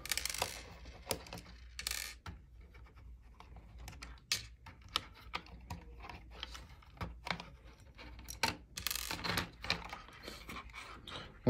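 Small bolts are unscrewed from a Mitsubishi PAC-US444CN-1 thermostat adapter, giving faint, close, irregular clicks, taps and small metallic rattles with no talk.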